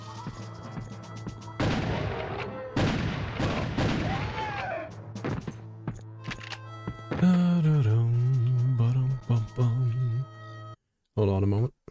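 A gamma cannon firing in the video game Duke Nukem Zero Hour, with several loud, broadband blasts in quick succession mixed with other game sounds and voices.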